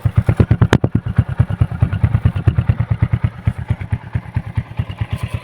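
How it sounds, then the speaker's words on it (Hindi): A Hero Splendor motorcycle engine idles close by with a fast, steady thumping putter that keeps an even rhythm throughout. "इस बाइक की आवाज़ सुन सकते हो।"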